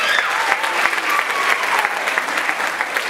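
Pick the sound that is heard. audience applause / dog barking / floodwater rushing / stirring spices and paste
audience applause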